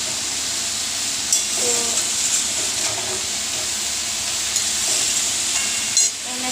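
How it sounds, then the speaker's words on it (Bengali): Greens sizzle loudly in hot oil seasoned with panch phoron, green chilli and garlic, a constant frying crackle broken by a few sharp clinks and spatters. "শাক বসিয়েছি শাকটা তেলের ওপর পাঁচ ফোড়ন কাঁচা লঙ্কা আর রসুন ফোড়ন দিয়ে শাকটা জাস্ট দিয়েছি"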